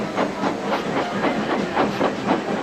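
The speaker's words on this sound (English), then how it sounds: "with much noise and blowing of steam, got ready to back onto the train." Loud, rhythmic chuffing and hissing of steam from a locomotive, repeating in a steady beat close by.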